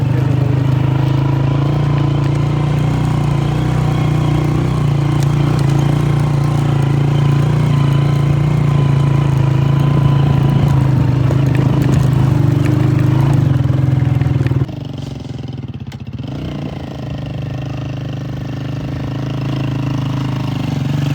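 Motorcycle engine ridden uphill on a mountain road in Kaghan Valley, a steady loud mid-pitched drone with wind rush that drops abruptly in level near the end, with no talk.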